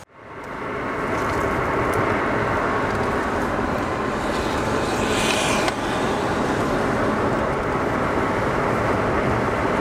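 A 2019 Corvette C7 Grand Sport driving, a steady loud engine and road roar heard from inside, rising quickly at the start and holding even, with a brief rattle midway.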